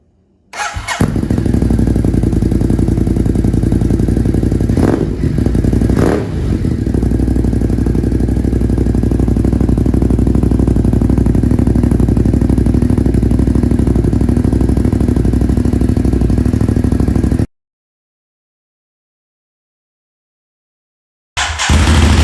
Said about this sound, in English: let's go ahead and fire the bike up